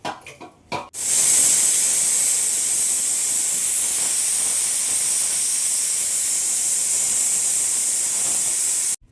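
A pressure cooker holding horsegram sambar vents steam after two whistles, a loud, steady, close hiss that starts abruptly after a brief clatter and runs unbroken to the end.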